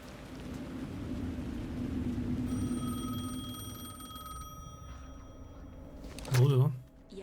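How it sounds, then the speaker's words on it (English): A telephone rings in the video game Alan Wake 2, a sustained electronic tone heard over a rainy ambient backdrop, followed by a brief louder rustle near the end. "The phone again."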